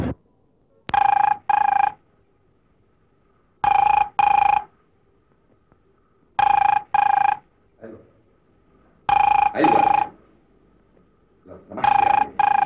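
Old-style telephone bell ringing in repeated double bursts, each pair of rings separated by about two seconds of near silence, clear and close.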